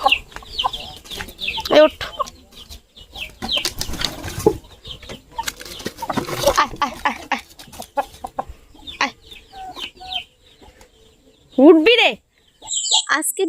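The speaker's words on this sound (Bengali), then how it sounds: "মুরগিগুলো তুলে দিলাম মুরগি আর মুরগির বাচ্চাগুলোকে" Nearby hens and chicks cluck and squawk in scattered bursts as they are put away, with some wing flapping and a person talking intermittently over the farmyard commotion.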